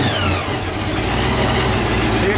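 A supercharged 454 engine runs in 20-degree cold with a loud, rough, steady rumble close by.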